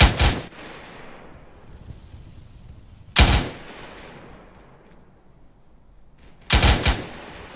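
Gunfire in the video game Arma 3 during a squad training exercise on Altis: three loud single shots several seconds apart, each with a long echoing tail fading into quiet between them, with no voices.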